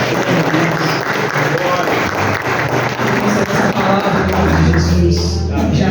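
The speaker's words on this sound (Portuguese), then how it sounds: "Pode aplaudir o nome do Senhor." Church congregation applauding during a family worship service, continuous clapping mixed with voices and sustained musical tones, loud and close throughout.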